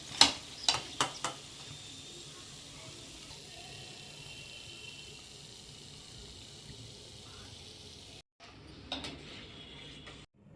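Thattai rice crackers fry in hot oil for a traditional Diwali snack, a steady sizzle with a few sharp metal clinks of a ladle near the start and again near the end.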